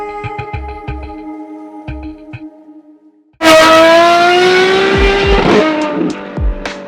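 A Novitec Ferrari 812 N-Largo S, the V12 first burbling and idling with a few sharp blips, then erupting into a loud, close rev that climbs to a high wail and falls away.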